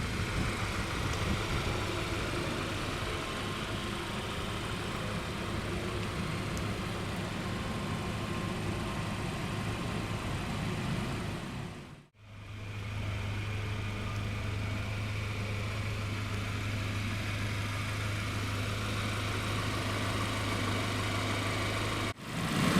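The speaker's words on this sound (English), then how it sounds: "Now powering the Regal here is your optional powertrain. It's a 2-liter turbocharged inline 4-cylinder" A 2016 Buick Regal GS with a 2-liter turbocharged inline four-cylinder engine idles steadily with a low, even hum, broken by one brief dropout midway.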